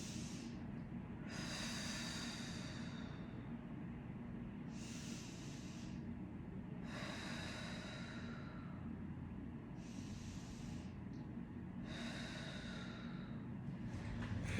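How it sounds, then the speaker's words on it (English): Deep breathing during a neck release stretch: five slow, loud breathy exhalations spaced a couple of seconds apart over steady low background noise, close to the microphone. "Big breath in."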